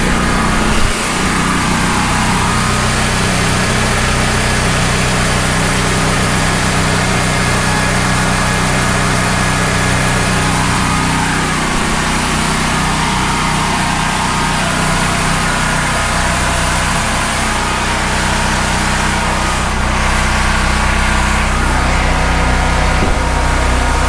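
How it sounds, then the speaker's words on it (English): A Costco Firman 7571 generator runs enclosed in a shed, its cooling fan pushing air, giving a loud, steady engine drone that holds unbroken throughout with no voices. "That's the fan running right there, pushing a lot of wind."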